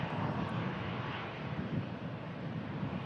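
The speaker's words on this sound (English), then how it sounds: "And Aer Lingus is taxiing out for Dublin." An Aer Lingus Airbus A320 taxis out, a steady broad jet rumble and whine heard from a distance, with no break or change over a few seconds.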